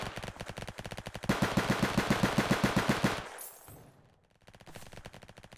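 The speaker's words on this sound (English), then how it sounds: "That's people shooting." Rapid automatic gunfire from players shooting in an online video game, dense repeated bursts of bangs that swell louder midway, break off, then resume more faintly.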